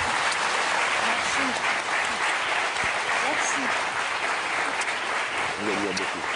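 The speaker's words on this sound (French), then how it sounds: "On les applaudit tous les deux." A TV studio audience on a French Sunday variety show applauds, a dense, loud, continuous wash of clapping that holds steady throughout, with a voice briefly heard near the end.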